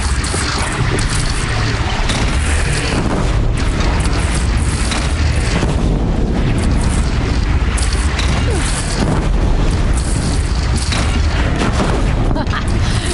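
Cannon fire in the Horizon Zero Dawn video game, heavy booming blasts that keep coming under a constant loud rumble, with voices talking over the din.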